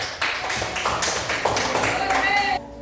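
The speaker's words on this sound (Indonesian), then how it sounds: "Beri tepuk tangan untuk kelompok 1." Students in a classroom clap for a presenting group, a steady patter of hand claps at close range with voices faintly underneath, stopping just before the end.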